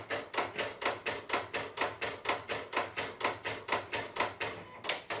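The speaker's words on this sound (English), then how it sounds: "once I'm ready to send this to the cutter, I'm just going to come over and click on start" A Silhouette Cameo 3 vinyl cutter working on sign vinyl gives off a steady run of rapid, evenly spaced mechanical clacks, close and crisp, about four per second with a short pause near the end.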